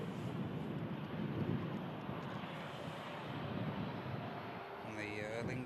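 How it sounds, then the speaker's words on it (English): An Airbus A380 departs Manchester Airport in stormy weather, its jet roar a broad distant rumble mixed with gusting wind, and a voice cuts in briefly at the end. "We'll capture the 380 leaving Manchester"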